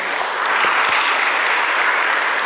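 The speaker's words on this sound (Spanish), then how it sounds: "Denle un aplauso al Señor, por favor" A church congregation claps during an evening prayer service, a dense, steady wash of applause lasting the whole moment with no talk over it.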